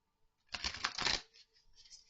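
Animal oracle cards are pulled out and briskly shuffled, a short close papery riffle lasting about a second, then a softer trailing rustle in a quiet room.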